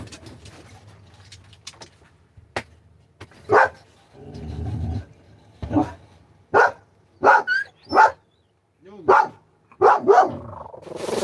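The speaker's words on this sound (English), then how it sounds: "What are you barking at?" A dog barks repeatedly in short, sharp bursts at close range, with irregular pauses between barks and some rustling in between.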